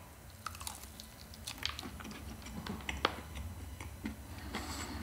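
A breaded Domino's chicken fillet is bitten and chewed close to the mic, with quiet scattered crisp crackles and soft mouth sounds over a low background hum.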